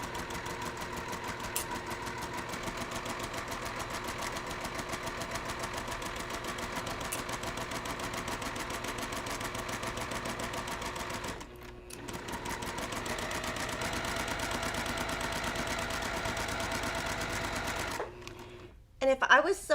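A sewing machine fitted with a quarter-inch foot and guide runs steadily at a short 2.0 stitch length, joining quilt pieces cut on the bias, with a brief pause near the middle and a clatter at the end; a voice talks over it.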